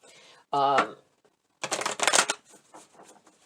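A deck of cards riffled in a quick burst, followed by a brief flurry of papery shuffling and tapping, close and fairly loud.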